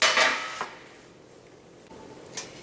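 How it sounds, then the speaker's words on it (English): A metal baking sheet is handled in a kitchen, giving a loud clattering clank at the start followed by a few lighter, scattered knocks and taps, with no talking. "Here's a baking sheet."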